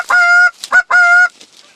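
Geese honking loudly during a waterfowl hunt, three strong nasal honks in quick succession, close and clear with little background noise.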